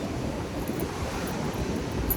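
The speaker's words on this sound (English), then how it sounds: "It's very windy today" Strong wind buffeting the microphone outdoors on a breezy day in Hawaii, a steady, close rumbling gust noise throughout with no talking.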